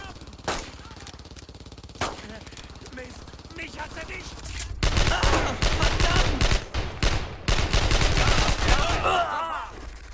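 Gunfire from the World War II shooter Brothers in Arms: Road to Hill 30, with a few isolated shots at first, then dense bursts of automatic fire and battle noise, loud and close, with a voice speaking underneath.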